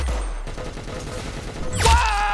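Pistol gunfire in the online shooter Arsenal, a dense burst of sharp shots layered over constant game noise, ending in a louder blast with a ringing tone near the end.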